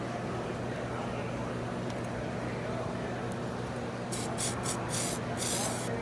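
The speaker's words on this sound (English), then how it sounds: "And then we have our spray activator." Short hissing bursts of spray activator land on wood moulding, four or five quick puffs near the end over a steady background hum.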